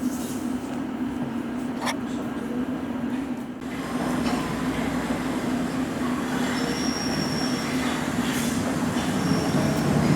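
A train at Upminster station on a winter afternoon, rumbling steadily and close at hand with wheel squeal and rail noise that swell slightly partway through, a continuous loud drone throughout.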